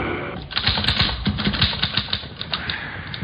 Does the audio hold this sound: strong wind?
no